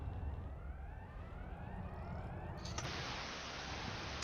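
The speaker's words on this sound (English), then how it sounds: "I hear sirens going off." Rising and falling siren wails at a ground base in the video game Elite Dangerous, sweeping in pitch over a rumbling, noisy background, distant and faint, and then a broad hiss cuts in partway through.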